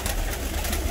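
Batoşhane pigeons, a Russian breed, coo softly in a crowded ornamental pigeon loft, a low steady murmur under faint background noise with no talk.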